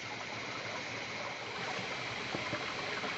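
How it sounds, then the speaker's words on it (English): A small perennial rainforest stream swollen by recent rain gives a steady, soft rushing and babbling of flowing water, even and unbroken, with no voices. "this is a lovely little rainforest stream"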